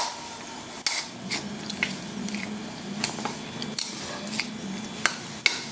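Batter of leftover coconut pulp for macaroons being mixed in a bowl, with soft wet squishing and light scraping clinks that come close and irregular, and nobody talks.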